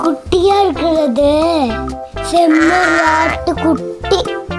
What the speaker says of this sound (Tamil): செம்மறியாட்டு குட்டி